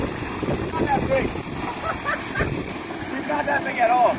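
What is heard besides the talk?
wind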